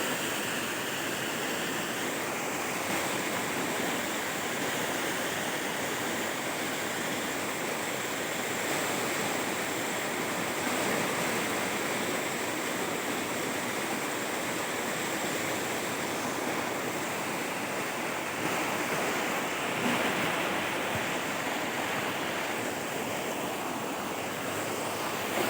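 Water in a dirty river behind a house in north Caloocan rushes in a continuous broadband wash, steady and fairly loud throughout, with some wind noise mixed in.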